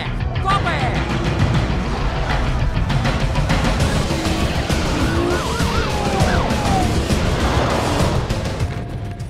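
Police sirens wail in a Need for Speed Most Wanted car chase, loud and continuous over engine roar, with voices in a game cutscene talking throughout.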